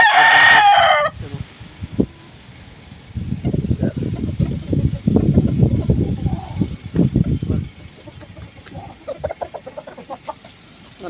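A rooster crows loudly and close at the start, then a long stretch of clucking and scratching farmyard noise follows, with more faint calls near the end.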